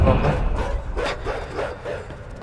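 A dog in the video game INSIDE barks in a quick series of yaps and woofs, fairly close and loud over a low rumbling game background.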